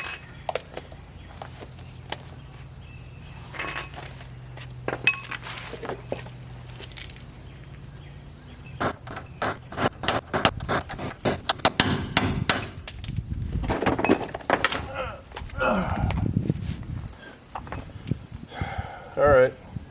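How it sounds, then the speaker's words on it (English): Sharp metal hammer blows drive rivets out of a truck's suspension, coming in irregular bursts of close, loud strikes with pauses between them. "now it's time to drive the rivets out."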